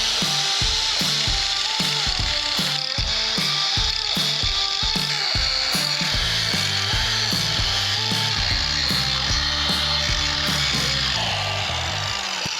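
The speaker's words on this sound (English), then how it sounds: "Got my angle grinder. I'm about to go in" Angle grinder cutting on a Honda Navi rear wheel job, a steady loud mechanical whine with rhythmic pulsing strokes running throughout, close to the mic with no talk over it.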